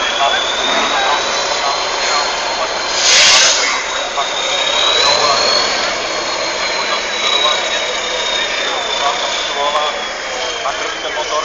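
Racing truck engine at the Kunštát truck trial, a loud continuous roar that holds steady and swells briefly partway through, with a commentator's voice running over it.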